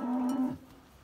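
A cow from a forest-grazing herd gives one loud, close moo lasting about half a second, then trails off into quiet outdoor ambience.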